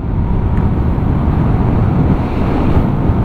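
Wind roars across the microphone on a cold mountain zigzag road near Santa Fe, a loud, constant low rumble with no voices.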